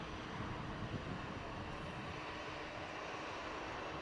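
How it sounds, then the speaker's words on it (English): A VistaJet Bombardier business jet touches down on the runway at Manchester Airport, producing a continuous, distant engine roar that holds steady with no speech over it. "Bombardier touching down"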